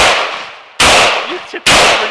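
A Century Arms WASR-10 rifle fires two loud, sharp shots close by, each with a long ringing decay outdoors, with a short faint voice sound between them.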